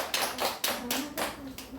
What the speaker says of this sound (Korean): 우리 가영이에게 수고했다는 박수를 보냅니다